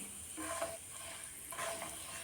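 Fenugreek seeds being stirred into curd chilli in a pan, a soft, faint scraping and low sizzle in two short bursts, no voices.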